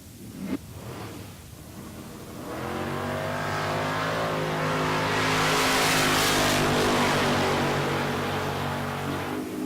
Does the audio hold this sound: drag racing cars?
yes